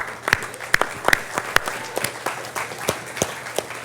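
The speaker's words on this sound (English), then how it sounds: "That is a round of applause." Scattered applause from a dinner audience, individual sharp claps standing out close by over a thinner background of clapping.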